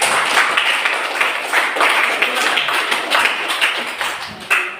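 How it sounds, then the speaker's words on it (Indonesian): A classroom of students applauds a group, bright and dense clapping from many hands that stays steady throughout, close and loud, with a couple of sharper claps near the end. "Tepuk tangan dulu."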